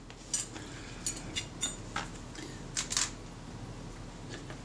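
Chrome trim plate being fitted onto a Kodak Retina IIIS camera, giving a handful of light metallic clicks and taps at close range, spaced irregularly over a quiet background.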